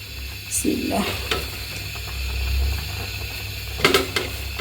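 Jute leaves tipped into hot oil in a pan, giving a sizzling, crackling fry with bursts of stirring and scraping, close up, along with a low steady kitchen hum.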